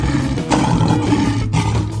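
A lion roars in a 3D animal racing game, a loud sustained growl lasting the full two seconds, with game music and effects underneath.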